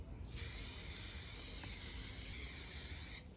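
One continuous hiss of a Rust-Oleum outdoor fabric spray paint can spraying a fabric chair cushion, lasting about three seconds at steady strength, close by and starting and stopping abruptly.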